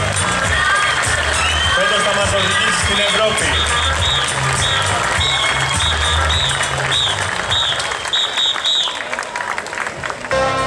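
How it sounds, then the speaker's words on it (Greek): Thousands of Atromitos football fans gathered in a park clap and cheer for their team, a loud, continuous crowd roar with shouts and sung tones, while someone speaks over the noise. "Ένα χειροκρότημα για την ομάδα μας."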